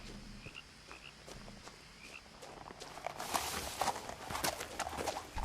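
Moose hooves step through a forest in the video game What Remains of Edith Finch. Soft, irregular footfalls sit under faint chirping and insect ambience, then turn into louder, crunchier steps in the second half.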